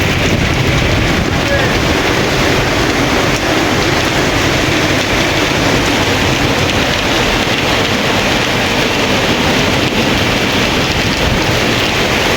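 Heavy rain pours at night in Dubai, a dense, constant roar of water hitting surfaces, loud and unbroken throughout.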